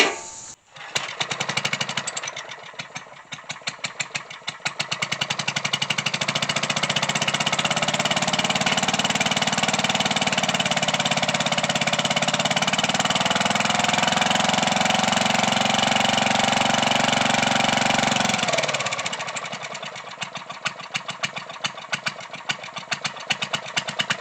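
A long-idle generator engine starts and runs with a loud, steady mechanical drone for most of the stretch, then cuts off near the end, with brief sputtering before and after.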